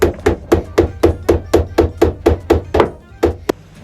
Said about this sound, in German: Und klopf mit dem Hammer bitte dieses Ding ab.